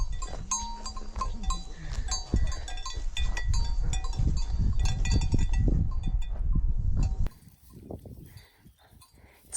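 Farm animals are heard outdoors in rural Yunnan where a young calf is kept, with bleating-like calls and clanking bell sounds over a busy, fairly loud background that suddenly drops away near the end.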